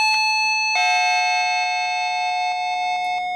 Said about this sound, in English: You get the chime tones on the inside station.